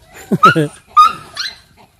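Small puppies yip and whimper in two short, close bursts, high-pitched and squeaky, with quiet gaps between them.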